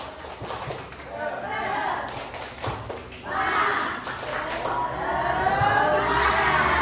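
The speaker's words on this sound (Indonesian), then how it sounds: "Ice breakingnya tepuk semangat." A school class at SMA Negeri 1 Sungai Tebelian performs a rhythmic group clapping routine, bursts of hand claps in patterned groups rising and falling amid crowd voices and chatter.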